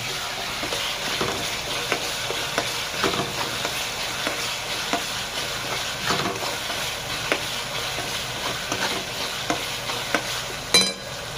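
Masala spices roast and crackle in a pan while being stirred, with steady sizzling, frequent scraping clicks, and a sharper clatter near the end, close and continuous, no voices.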